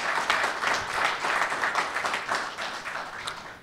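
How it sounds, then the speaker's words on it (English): At an arts centre's 25th anniversary celebration, an audience gives a round of applause, lively clapping with audible individual claps pulsing through a steady, moderately loud wash. "I think that's worthy of a round of applause."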